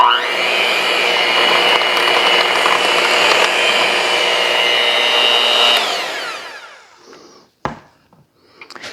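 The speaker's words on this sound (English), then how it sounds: "I'm going to use my hand mixer" An electric hand mixer whirs steadily and loudly through chocolate cupcake batter for close to six seconds, then winds down. A few clunks and bumps follow in the quiet.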